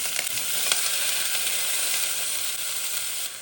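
Tomatoes drop into a pan of frying bendakaya curry, setting off a steady, loud, close sizzle with a few sharp crackles and no talking.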